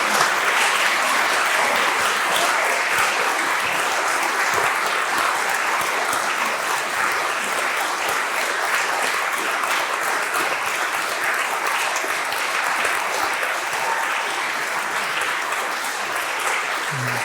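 A theatre audience claps loudly and steadily after a performance of a show tune, a dense, continuous wall of applause that holds at full strength for over fifteen seconds with no talking.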